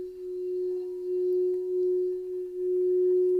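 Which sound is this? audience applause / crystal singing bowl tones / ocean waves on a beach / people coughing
crystal singing bowl tones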